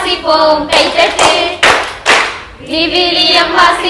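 Children clapping hands in time to a sung Bible verse at a home Bible school, with sharp, close claps in short rhythmic bursts and gaps between them, heard alone.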